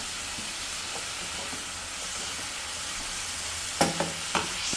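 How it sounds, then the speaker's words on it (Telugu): Onion fries in a pan with a steady hiss of sizzling oil. Toward the end come a few quick clinks of a spoon stirring against the pan, and there is no speech. "సో చూడండి ఆనియన్ అయితే వేగిపోయింది"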